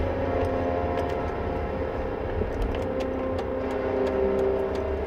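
A car engine idling and running in a driving video game, a steady close drone with faint clicking ticks over it, continuous and alone.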